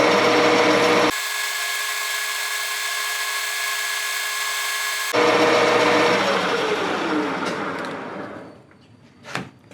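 Power tool spinning a motorcycle brake caliper piston against 1000 grit abrasive, a steady high whine with grinding rub that cuts off abruptly, leaving scraping and handling noises.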